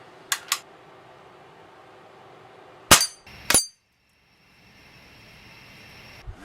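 A vintage Crosman 760 air rifle fires with several sharp, isolated snaps, two quick ones early and two louder ones near the middle, over quiet outdoor background with no talk.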